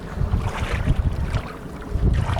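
A small private motorboat runs on open water near Arnala Fort, giving a continuous low rumble and splashing under heavy wind buffeting on the microphone, with no one speaking.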